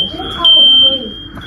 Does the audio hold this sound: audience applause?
no